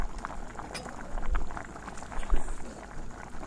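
Sweet corn chicken soup made with ginger, garlic, chopped onion and water bubbles at a steady boil in a pot, a close, soft, continuous burble with occasional louder pops and no talking.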